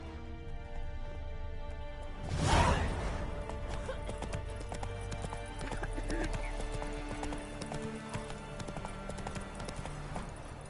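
Roach, the horse in The Witcher 3, gallops in a rapid run of hoofbeats with a loud whinny near the start, set against sustained in-game music.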